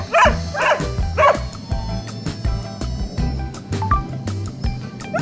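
Husky sled dogs bark repeatedly outdoors, several loud close barks at the start and more scattered yips and barks continuing amid a busy team at a frozen lake.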